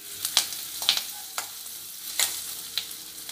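Large onions sauté in a kadai for kadai paneer, giving a soft, low sizzle punctuated by several sharp spatula scrapes and taps at uneven intervals.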